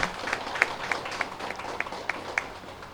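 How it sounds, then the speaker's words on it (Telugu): An audience claps at the opening of a pyramid meditation hall, scattered sharp hand claps spaced out rather than a full ovation, heard at moderate distance over a quiet room. "బుద్ధ భగవానికి ఒకసారి గట్టి క్లాప్స్ కొట్టుకుందాం"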